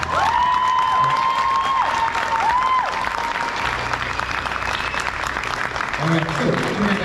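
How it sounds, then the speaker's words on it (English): Loud, steady applause from a crowd celebrating a black belt promotion, with cheering and shouting layered in throughout and voices calling out over the clapping. "Let's give them one more big round of applause."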